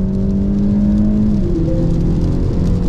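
A Peugeot 508 PSE engine drones steadily under road and cabin noise on a race circuit, pitch climbing slightly as it revs, loud and continuous.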